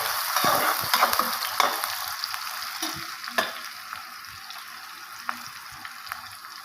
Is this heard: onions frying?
yes